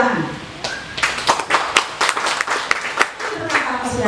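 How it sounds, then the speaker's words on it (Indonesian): A church congregation bursts into scattered applause during a sermon, uneven bursts of clapping from many hands mixed with a voice talking over them. "Tepuk tangan."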